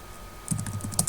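Quick keystrokes on a computer keyboard while writing code: after a quiet start, a short burst of about eight light, close clicks, slightly uneven in rhythm.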